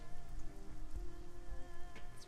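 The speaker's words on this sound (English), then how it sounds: "It's raining." Rain in the video game Shadowrun: Hong Kong, a steady close patter of drops on hard surfaces over a faint tonal hum, with a few heavier splats.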